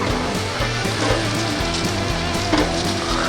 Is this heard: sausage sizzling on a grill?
yes